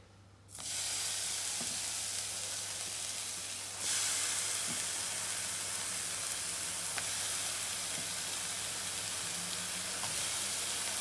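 Bacon sizzles steadily in a frying pan, a loud continuous crackling hiss that starts suddenly and swells a little partway through, with occasional pops over a low hum.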